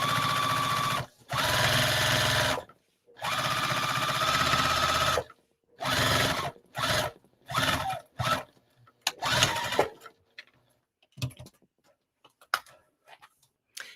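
Sewing machine stitching a tote bag seam, loud and close, running in long steady bursts that break into shorter stop-and-go runs before falling quiet with a few faint clicks.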